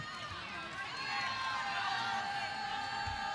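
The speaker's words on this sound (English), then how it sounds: "Great crowd turning out here tonight at Memorial Coliseum to see the Wildcats and Cardinals meet again." A large crowd of nearly 4,000 at Memorial Coliseum roars steadily through a women's college volleyball match between Kentucky and Louisville, the broad cheering swelling slightly midway and staying loud throughout.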